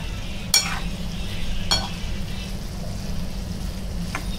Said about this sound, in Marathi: आता हे एक 3-4 मिनटं आपण छान वाफवून घेऊया